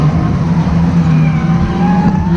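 A tiny Rotax racing kart engine drones steadily and loudly at a kart track during a race, holding a sustained buzzing tone that rises slightly toward the end.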